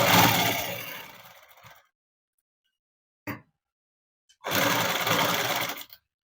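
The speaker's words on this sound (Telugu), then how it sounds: "ఇలా మర్చుకొని ఈ చివరి నుంచి కుట్టు వేసేసుకుంటాము." A sewing machine stitching cloth for a hair band runs in two loud whirring bursts up close, separated by silence and a brief mechanical clunk.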